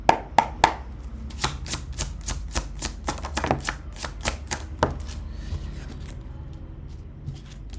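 Tarot cards riffled and tapped in a quick, crisp series of papery flicks and snaps, fairly close, with no talking.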